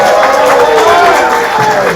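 A live stand-up comedy class showcase crowd cheers and applauds for the host and teacher, a dense, loud wash of clapping and shouts held steady throughout, with voices mixed into the noise.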